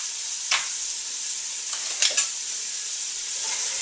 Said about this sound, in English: coat all of the pieces with oil, break up the onions so that they cook and brown evenly.